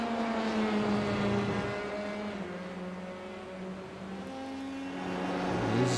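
Dallara F3 race cars lapping Lime Rock Park in a racing game, a sustained high-pitched engine whine rising and falling with gear changes, loud and continuous with no talk.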